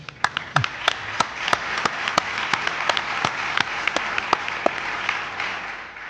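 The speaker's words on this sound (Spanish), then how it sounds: "Un aplauso para él, por favor." A studio audience applauds a guest on a Spanish paranormal talk program, a sustained wash of clapping with sharp individual claps standing out, fairly near and moderately loud, with no talk over it.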